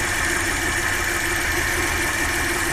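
Repaired 2.8-litre Audi 100 C4 engine idling steadily, an even mechanical hum with a faint rattle, recorded up close with no voices.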